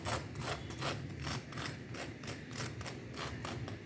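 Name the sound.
crispy potato bread fingers being handled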